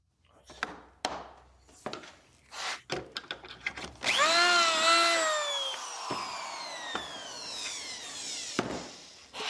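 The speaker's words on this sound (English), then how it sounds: "Let's drill one more." A drill bores pocket holes in a wooden board for a drawer build, giving a few short bursts and then a sustained rising whine that settles into a steady hum, with handling knocks around it.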